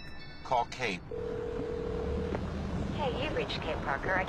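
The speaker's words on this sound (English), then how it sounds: "Call Kate" A phone dials a call, a sustained tone with a short beep at the end, with people talking before and after it.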